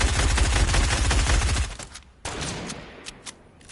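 A fast automatic burst of Fortnite gunfire hammers for about a second and a half, then stops abruptly, followed by a few scattered single shots and fainter impacts.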